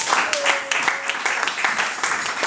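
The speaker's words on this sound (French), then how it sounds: "Est-ce qu'on peut acclamer Dieu?" Congregation clapping and cheering in a church, a dense wash of applause with voices mixed in, steady and lively throughout.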